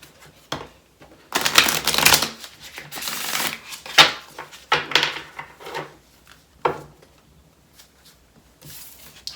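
Tarot cards being shuffled in brisk riffling bursts with pauses between, close and fairly loud, with no speech.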